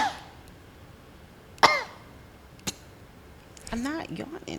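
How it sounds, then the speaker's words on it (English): Two short sharp coughs spaced apart over a steady background hiss, followed by the start of a voice. "I had a cough."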